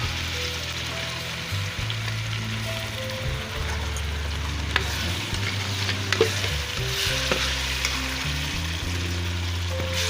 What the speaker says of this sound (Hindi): ये आप पेस्ट शामिल कर रही हूँ, टमाटर, प्याज और सब्ज़ मिर्ची।